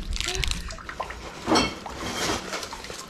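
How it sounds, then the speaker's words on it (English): Warm water runs into a tub for washing a hiking backpack with green bar soap, a steady splashing flow with a brief louder surge midway, heard close up with talking over it. "We're gonna start by putting in some warm water"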